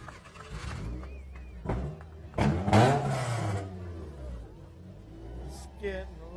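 Baja race trucks at a contingency row rev their engines, a loud surge building in the middle before easing off, while people talk over the noise.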